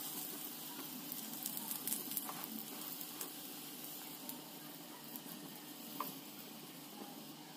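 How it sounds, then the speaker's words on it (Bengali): Aloo paratha fries in oil in a kadai with a soft, steady sizzle and faint crackles, quiet and continuous with no talking. "তেল দিয়ে আবার খুব ভালো মতো একসাথে ভেজে নেব।"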